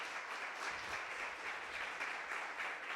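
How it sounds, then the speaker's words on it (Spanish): A church congregation applauds after a song, a steady, dense round of clapping from a crowd that continues for the full length without pause. "¿Les damos un aplauso?"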